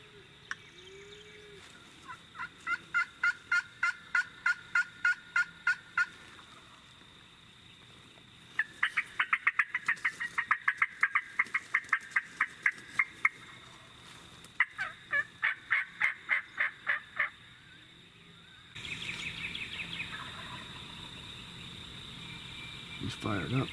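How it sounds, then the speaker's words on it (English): Several Osceola wild turkeys gobble in repeated rattling bursts at moderate distance outdoors, with crickets and insects buzzing faintly in the background and a low voice near the end. "We got about 4 or 5 gobblers in this spot here"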